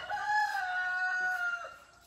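A meat chicken being held for butchering gives a sustained, drawn-out call lasting about two seconds. The call is close and fairly loud, then fades out at the end, with no talking.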